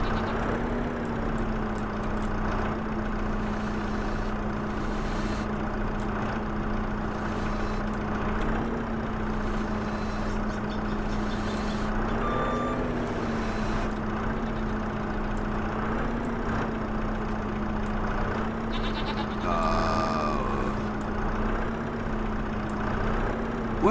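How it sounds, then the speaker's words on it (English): A forklift in Farming Simulator 25 drives along with a steady low engine drone and idling hum, joined by faint intermittent reversing beeps, with no talk over it. "driving a forklift on the front tires alone"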